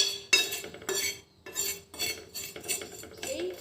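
A spoon stirs coffee powder into fried turmeric in a pan, rhythmic metallic scrapes and clinks repeating about every half second, close and distinct with quiet gaps between strokes.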